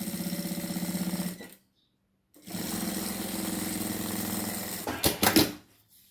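Sewing machine stitching a zipper onto bias binding for a small toothbrush pouch: a fast rhythmic motor chatter in two long runs separated by a silent pause, then a few short bursts and clicks.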